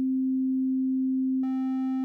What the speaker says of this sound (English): There's our sine wave,